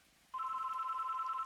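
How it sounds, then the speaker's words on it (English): A single trilling electronic ring from a telephone in a point-and-click video game, starting abruptly and holding steady and clear with nothing else over it. "I hate when the phone rings this hour of the night"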